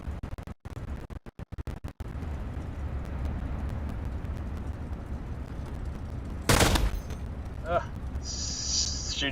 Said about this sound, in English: Shooting cannons.